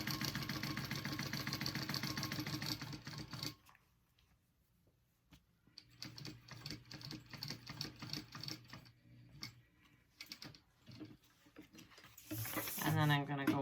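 A sewing machine stitches the pocket separation on a bag, a rapid whirring run that stops, then resumes in shorter bursts of stitching with pauses between.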